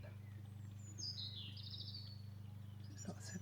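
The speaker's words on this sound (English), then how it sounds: "Lots of bird song." Birds sing on a warm summer evening outside a cabin, a faint, distant chirping phrase and a few brief tweets over a steady low hum.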